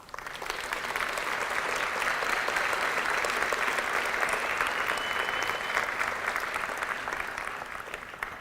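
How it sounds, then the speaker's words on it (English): Sustained applause from a large graduation ceremony audience, a dense steady wash of many hands clapping that holds evenly for several seconds before tapering slightly. "give yourself a round of applause"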